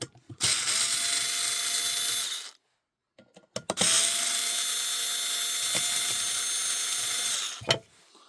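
Screws are driven out of a Kirby Sentria upright vacuum during disassembly with a power driver, giving two long, loud whirring bursts separated by a short pause, with a few sharp clicks at the end and no talk.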